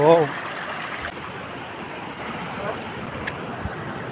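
River water flows under a bridge in Kerala as a steady, soft rushing wash with some wind noise on the microphone, and a brief voice is heard at the very start.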